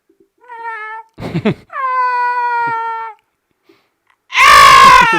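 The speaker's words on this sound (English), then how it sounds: "Stupid cat." A cat meows loudly in several drawn-out, wailing calls, the last one the loudest, with a brief gasping or scuffling sound between the first two.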